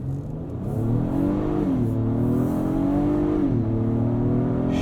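A 2022 Acura MDX SH-AWD SUV with a 10-speed automatic accelerates, its engine note climbing steadily, then dropping quickly at two upshifts before rising again, heard from inside the cabin.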